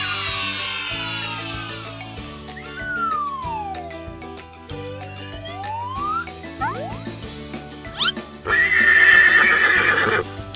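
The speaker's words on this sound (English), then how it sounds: "It's a horse!" A horse neighs in a long, clear whinny set against cheerful backing music, followed by a louder, rougher burst near the end as the call peaks.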